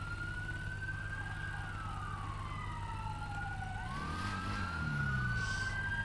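A police siren in the video game GTA 5 wails steadily, its pitch rising and falling in long sweeps over a low engine hum, loud and continuous throughout.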